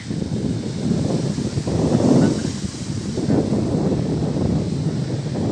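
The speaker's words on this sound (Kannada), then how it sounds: "ಆಫ್ರಿಕಾದ ಗಾಳಿಗಳು ಬಂದು ಬಡಿತಾ ಇದ್ದಾವೆ" Cold wind blowing steadily at a lighthouse viewpoint, a continuous broadband roar with gusts swelling and easing across the whole stretch, loud and close with no voices.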